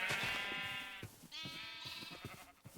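Sheep in the Minecraft video game bleat in two or three drawn-out, wavering cries, fairly close and clear, with brief gaps between them and no talking.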